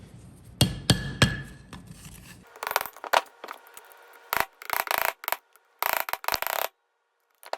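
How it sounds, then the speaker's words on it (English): A small nut on a Yamaha Kodiak 400 ATV rear differential is tapped out with a screwdriver and hammer: a series of sharp metallic knocks and clinks, irregular in rhythm, close and loud, with short pauses between strikes. "I assume you turn this little nut out with a screwdriver and a hammer."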